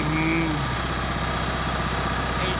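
An RV generator engine runs at a steady idle, a close, continuous mechanical drone with a pulsing vibration and no talk over it.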